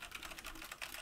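Typing on a Roccat USB mechanical keyboard: a quick, dense run of clicky keystrokes in close succession over about a second, near and fairly faint.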